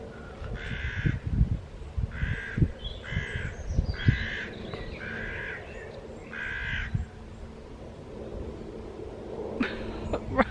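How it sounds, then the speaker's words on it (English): A crow caws repeatedly over an allotment garden, about six harsh calls in an uneven series, fairly close and loud above low outdoor rumble and faint background sound. "Mr. Crow's talking to somebody."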